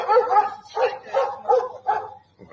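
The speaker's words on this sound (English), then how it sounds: "We got dogs." Several dogs barking in quick, repeated bursts, fairly close and loud, with five or six bark clusters over a couple of seconds.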